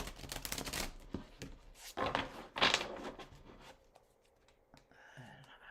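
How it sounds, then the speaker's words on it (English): An oracle card deck being shuffled by hand, a run of papery riffles and slaps with short pauses, close and fairly quiet, with no talk. "While I'm shuffling,"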